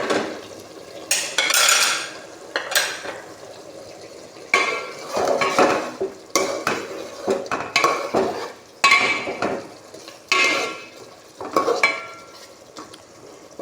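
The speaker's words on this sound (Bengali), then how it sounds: "আমার কষানিটা হয়ে গেছে, এখন দিয়ে দিব টুনা মাছগুলো।" Tuna pieces tipped into a pan of cooked-down masala and stirred, with loud metal-on-metal scraping, clinks of a spoon against the pan and bursts of frying, starting and stopping in irregular clusters.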